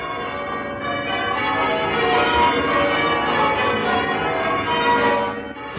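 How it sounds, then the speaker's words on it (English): Westminster Abbey's church bells peal in a dense, continuous wash of overlapping rings, loud and steady, heard on an old muffled broadcast recording. "Westminster Abbey sounds her bells"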